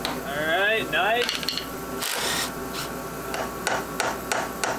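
Metal suspension parts being unbolted from a Honda Civic with a built LS engine: a whirring, rising tool whine at first, then scraping, clanks and sharp metallic knocks in an irregular rhythm, close and fairly loud.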